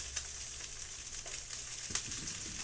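Garlic frying in a little olive oil in a pan, producing a faint, steady sizzle with a few light clicks and scrapes, no talking.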